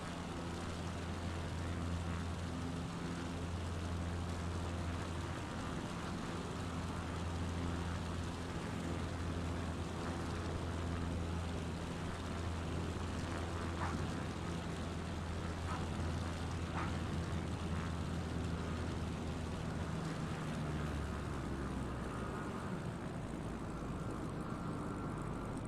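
Small propeller aircraft in a flight simulator game on final approach to land on runway 22 at about 63 knots with flaps down, a steady loud engine drone throughout that shifts slightly in pitch near the end.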